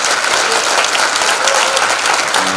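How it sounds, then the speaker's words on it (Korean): Steady, dense applause fills the hall as an audience claps throughout at a district lecture hosting a presidential hopeful, loud and continuous with no voices over it. "이때 박수 한번 쳐주면요."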